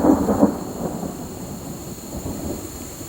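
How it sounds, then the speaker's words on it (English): Low rumbling thunder from a storm rolls in a broad wash, loudest at the start and then fading into a steady dull grumble with faint rain-like hiss, no voices. "You got thunder?"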